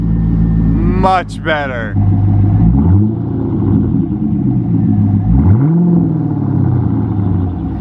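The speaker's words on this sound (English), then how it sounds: "first start up with the new exhaust in 3, 2, 1" A C5 Corvette with a new performance muffler exhaust cranks over, catches and revs in several rising and falling sweeps, loud and close, over a steady idle rumble while people talk and cheer nearby.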